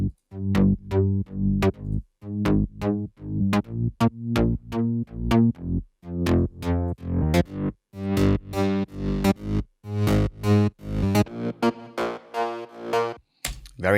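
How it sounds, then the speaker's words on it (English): Second bass layer from a future house production, a square, digital-sounding synth bass playing rapid rhythmic stabs in a steady repeating pattern, loud and alone with no voices. "The second bass layer sounds like this."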